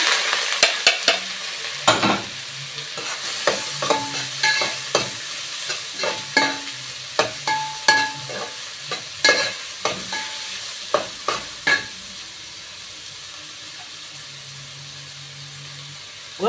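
Sliced onions frying in hot ghee, with a steady sizzle broken by repeated scraping strokes of a spoon stirring the pan, loud and close, the stirring slowing toward the end.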